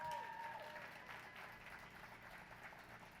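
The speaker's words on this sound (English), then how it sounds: "Please give them a round of applause." Audience applause at a city's State of the City address, honoring city council members; steady, broad clapping from a crowd fills the whole stretch at moderate level, fairly close, with no voices over it.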